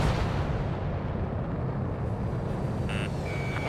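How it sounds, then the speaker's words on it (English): A missile launch and explosion in the combat flight game Ace Combat 7, heard as a dense, steady roaring rumble with a faint electronic beeping tone near the end. "Strider 1, missile launched."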